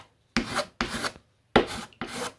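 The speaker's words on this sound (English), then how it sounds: "So what you're actually doing is just scraping it into any of the low sections that you can see." Red stopper filler being scraped across a wooden aircraft fuselage surface: four separate raspy scraping strokes in a quick, irregular rhythm, close and fairly quiet, with short pauses between them.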